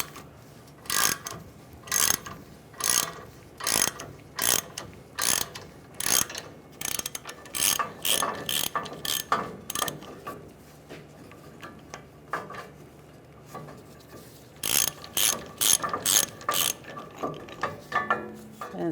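Rapid metallic clicking of a hand ratchet backing off a torsion bar unloading tool on a vehicle's suspension, sounding in repeated close bursts of quick clicks with brief pauses between strokes.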